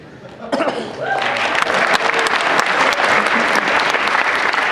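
A panel audience at PAX East breaks into applause for Loading Ready Run, a loud, sustained crowd clapping that swells in after a brief voice and carries laughter within it.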